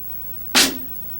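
A single regular stroke on a snare drum: one sharp, bright crack that rings briefly and fades within a fraction of a second, played alone with no talk.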